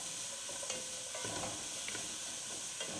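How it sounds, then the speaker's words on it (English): Vegetables sizzle in a soup pot for bean soup while being stirred, a soft continuous frying hiss broken by occasional scraping spoon strokes, with no talking. "keep these vegetables moving around in the pot so we don't burn any"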